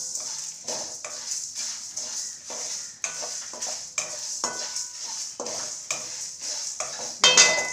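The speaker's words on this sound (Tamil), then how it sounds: "இப்போ அந்த சீரகம் வந்து நல்லா மனம் வர அளவுக்கு லேசாக வறுத்து எடுத்துக்கிடுவோம்" Cumin seeds dry roasting in a pan for a chicken curry base, heard as a steady faint hiss under repeated scraping strokes of a spoon against the pan, close up and without talk.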